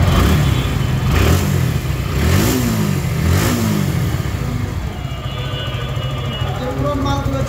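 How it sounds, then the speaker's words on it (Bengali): A Suzuki SF FI motorcycle engine, freshly rebuilt with replaced parts, idles and revs in a few rising throttle blips before settling to a steady idle, loud and close, while a person talks over it. "এই যে গাড়িটা স্টার্ট দিলাম, দেখেন গাড়ি এখন সাউন্ডটা তো একদম নতুনের মতন হয়ে গেছে"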